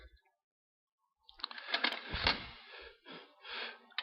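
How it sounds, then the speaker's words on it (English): Close metallic ratcheting and scraping as a wrench loosens the foot bolts of a motor being leveled and shims are slid under its feet, in short uneven bursts after a brief silence. "now we're going to loosen the bolts and slide all 4 sets of shims underneath the feet"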